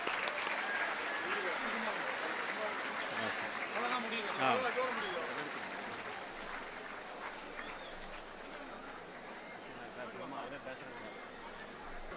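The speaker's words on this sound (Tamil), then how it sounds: "மாணவர்கள் நன்றாக கைத்தட்டி உற்சாகப்படுத்த வேண்டும்." Students applaud at a school honoring ceremony, a dense steady clapping that runs throughout and slowly fades, with light crowd chatter mixed in.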